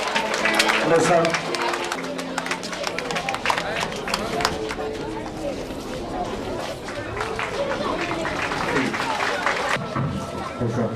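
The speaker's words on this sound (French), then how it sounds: "Merci, applaudissez s'il vous plaît." An audience at a school excellence ceremony claps in a dense, sustained round of applause mixed with crowd chatter, while a voice speaks over it briefly.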